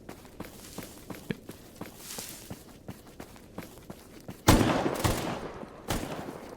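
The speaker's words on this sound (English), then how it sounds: "They're shooting at something else." Gunfire in the video game Stalker Gamma: a run of sharp, evenly spaced shots, somewhat distant and moderately loud, followed by two louder, closer bursts near the end.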